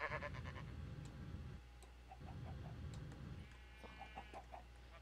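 A video game chicken clucks in short repeated bursts, with small chirpy bird-like blips and a low steady background hum, and no talking.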